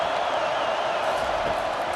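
Steady roar of a raucous stadium crowd in a college football video game, Nebraska against Oklahoma, a dense continuous wash of noise with no breaks throughout.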